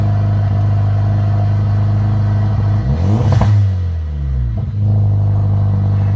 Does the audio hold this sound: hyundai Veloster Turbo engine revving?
yes